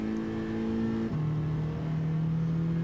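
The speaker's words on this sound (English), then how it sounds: "I think I heard some excessive burbling in the rear of the car from a single exhaust" A Mini Cooper S Type R with a single exhaust in Gran Turismo, its engine holding a steady droning note that dips briefly in pitch mid-way, the burbling exhaust running continuously and fairly loud.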